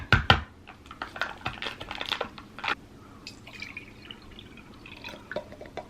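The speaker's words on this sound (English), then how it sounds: "I'm gonna pour it in the glass because I want to know the color of it too." Caramel macchiato from a 7-Eleven in Japan is poured into a glass, with a few close clinks and drips early on that trail off into a soft trickle and quiet liquid patter.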